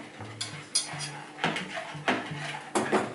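Chocolate muffin batter is stirred in a bowl in uneven scraping, knocking bursts of a spoon against the bowl, with faint voices in the background.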